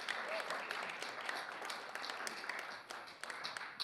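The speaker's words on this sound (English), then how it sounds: "give them a round of applause anyway" An audience at a library folk music performance gives a round of applause, a continuous, even clatter of many hands heard on its own.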